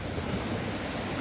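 Ocean waves washing up on a beach where people are hunting sand dollars, a broad steady rushing surge with wind noise, fairly loud and with no talk over it.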